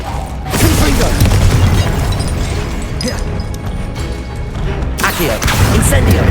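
Confringo blasting spell explosions in the Hogwarts Legacy game, loud heavy booms and crashing impacts in a dense barrage, with a voice speaking amid the blasts.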